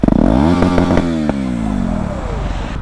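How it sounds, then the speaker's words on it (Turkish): A close 250cc motorcycle engine, a Yamaha MT-25 or KTM Duke 250, revs hard through its exhaust, its pitch falling as the throttle drops back, followed by a rough, lumpy idle. No talking is heard. "Bir egzozun sesini dinleteyim."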